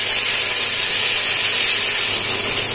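Onion, garlic, ginger, cumin and chili paste sizzle in hot soybean oil in a pan for a fish curry, giving a loud, steady, dense hiss with no breaks, heard close up.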